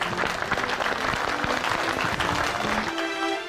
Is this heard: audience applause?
yes